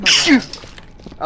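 A single sharp sneeze bursts out close by, followed at once by a person talking.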